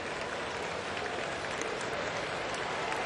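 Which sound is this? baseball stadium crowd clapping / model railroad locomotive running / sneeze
baseball stadium crowd clapping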